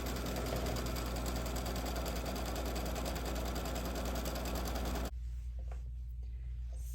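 A sewing machine stitching out a felt piece for an Easter tiered tray, running loud and fast with a steady rapid mechanical whir for about five seconds, then stopping abruptly into quiet room noise with faint handling.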